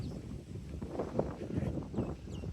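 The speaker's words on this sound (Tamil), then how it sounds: "நல்லா காற்றடிக்குது" Gusty daytime wind blows around a parked truck carrying a load of rice, a low, rumbling buffeting on the microphone that rises and falls softly with no talking.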